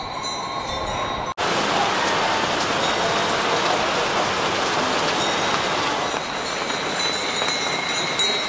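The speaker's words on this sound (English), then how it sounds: "We're just sitting here waiting for the rain to stop." Heavy rain pours down at the Wat Sa Ket temple in Thailand as a dense, loud, continuous hiss that drums steadily on nearby surfaces without a break.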